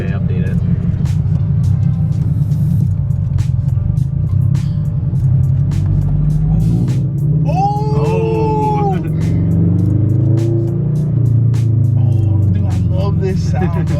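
A Subaru BRZ's engine and exhaust give a deep, steady idling rumble close by that holds throughout, with voices talking over it.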